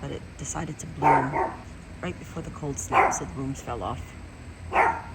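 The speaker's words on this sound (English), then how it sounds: "Pardon the dog." A dog barks in a few sharp, fairly close bursts while a person keeps talking through a garden tour.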